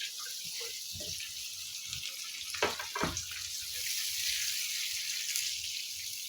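A cup of water poured into sizzling spice masala with red chilli and turmeric in a pan, steady hissing frying with a brief splashy pour burst midway, close and without talk.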